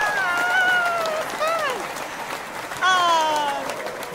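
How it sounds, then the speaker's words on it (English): Studio audience applause on a morning sports show, a steady wash of clapping with gliding tonal sounds layered over it and a louder burst near the end. "Give us a round of applause."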